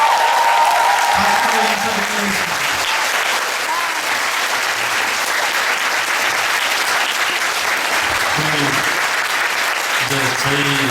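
Sustained, loud applause from the studio audience closing a live Korean talk-show interview with Moon Jae-in, a dense wall of clapping with a voice speaking over it at the start and end.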